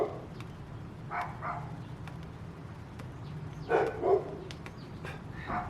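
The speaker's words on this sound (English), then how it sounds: "Sorry about my neighbor's dogs. They're barking for no reason." Neighbor's dogs bark outdoors at a distance, a few scattered bursts over steady background noise, fairly faint.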